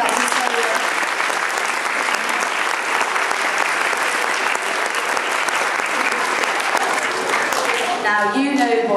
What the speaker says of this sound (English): Big clap for Johnny.